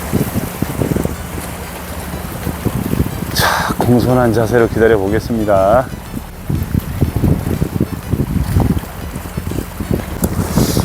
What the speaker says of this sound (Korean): 날은 더운데 바닷바람은 시원합니다